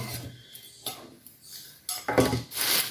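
A metal tiffin box for sweets is handled and opened, with close scraping, rubbing and clattering metal sounds that grow louder toward the end.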